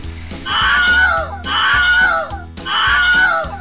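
The Wilhelm scream, a stock film sound effect of a man's agonised cry, rings out loud and close three times in a row, each shriek sliding downward in pitch with short gaps between.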